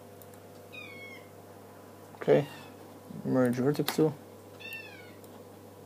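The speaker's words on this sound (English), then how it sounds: "Our cat is yelling, she wants to go out." A pet cat meows indoors, giving a few drawn-out, insistent meows at moderate loudness while someone talks quietly nearby.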